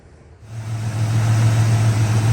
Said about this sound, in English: I like the sounds of these small block Fords